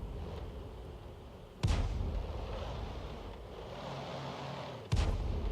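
An M44 self-propelled artillery gun fires twice in a tank video game, each shot a sharp deep boom with a rolling tail, spaced a few seconds apart over quiet low background ambience.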